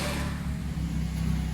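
A Honda Civic Type R FN2 with a Tegiwa 70mm exhaust idles steadily nearby, a low droning exhaust note with a smooth, even rumble throughout.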